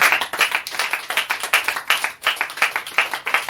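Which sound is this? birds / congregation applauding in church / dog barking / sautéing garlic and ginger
congregation applauding in church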